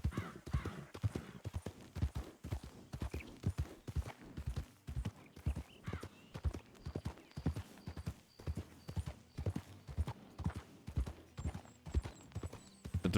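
Horse hooves clip-clop in an even, rapid walking rhythm in Red Dead Redemption 2, steady, close and fairly quiet throughout, with a faint tone underneath.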